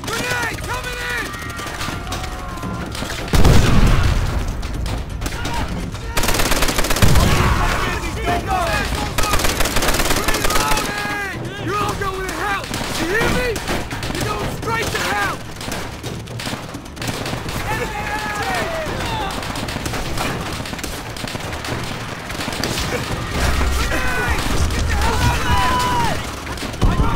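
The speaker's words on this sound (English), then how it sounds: "Machine gun!" Machine gun fire in the video game Call of Duty: World at War, loud sustained bursts of rapid automatic shots over battlefield noise, with soldiers shouting throughout.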